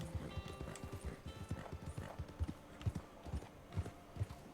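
Horse hooves clip-clop at a steady walking rhythm in Red Dead Online, a lit-up horse moving along, the hoofbeats fairly close and distinct with an occasional whinny and faint game ambience behind.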